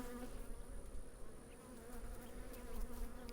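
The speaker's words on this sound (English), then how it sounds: "Already got one buzzing around my face." A honeybee buzzes close around a beekeeper's face at an open hive during a hive split, a faint steady whine that wavers in pitch as it circles near the ear.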